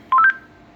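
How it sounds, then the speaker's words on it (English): Four rapid DTMF keypad tones from microphone buttons pressed by accident, short stepped beeps in quick succession lasting about a quarter second, then quiet. "I'm hitting buttons on my microphone on accident"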